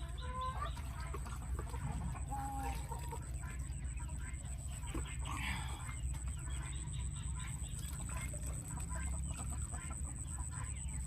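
Layer and grower chickens cluck and chatter steadily in a farm coop, several birds near and far, with a constant high electrical whine and low background rumble throughout.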